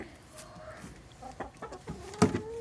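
Hens cluck softly in short scattered bursts, with a louder squawk near the end, close by and without talk.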